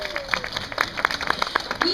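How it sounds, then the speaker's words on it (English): A crowd at an aquarium dolphin show claps in scattered, uneven bursts, fairly close and moderate in level, with a few sharper hand claps standing out and faint background chatter. "let's give it a warm, welcoming round of applause to both Charlotte and Helen and Hannah"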